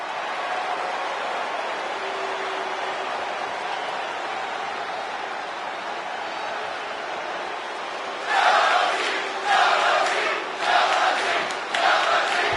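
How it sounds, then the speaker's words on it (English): A video game arena crowd from WWE 2K20 roars in a steady distant murmur, then breaks into several loud cheering bursts near the end. "And what about this crowd reaction, guys?"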